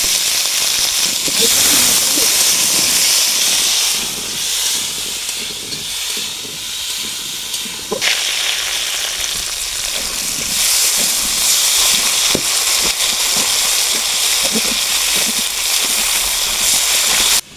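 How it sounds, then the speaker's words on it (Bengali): Potatoes drop into hot mustard oil and fry with a loud, hissing, steam-like sizzle that stays dense and steady throughout. A brief sharp clatter breaks in partway, and no voices are heard. "তেলটা গরম হয়ে গেছে, আলুটা দিয়ে দেবো।"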